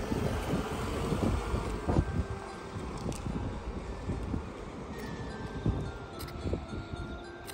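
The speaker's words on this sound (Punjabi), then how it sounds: "ਹਵਾ ਚੱਲਦੀ ਠੰਡੀ" Cold wind blowing outdoors, heard as continuous gusty rumbling buffeting against the microphone with scattered light knocks and rustles throughout.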